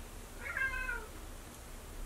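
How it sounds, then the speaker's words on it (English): A single drawn-out meow from a house cat, fairly faint and a little distant, rising and falling over about half a second against quiet room hush. "That was my cat if you heard her."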